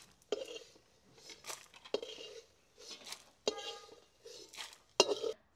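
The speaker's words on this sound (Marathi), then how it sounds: "चटणीसाठी जे आपण मसाले घेतलेले ते भाजून झालेले, ते आता आपण प्लेटमध्ये काढून घेऊया।" Roasted chutney spices for a moringa leaf chutney scraped from a kadhai onto a plate, a series of quiet, close metallic scrapes and clinks in separate bursts with pauses between.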